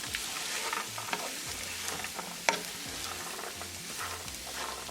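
French beans and paneer stirred in a pan with a tadka: a continuous sizzle with scraping spoon strokes, close and steady, one sharper clink midway.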